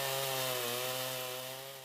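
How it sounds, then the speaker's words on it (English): A chainsaw mill ripping a log into a 13-inch square beam for a ship's mast, the engine droning loud and steady at high revs and easing off slightly toward the end, with no voices. "used the chainsaw mill to get a 13-inch square"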